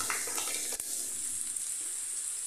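Finely chopped capsicum and onion frying in a pan give a steady close sizzle with a few soft stirring scrapes, and no talk.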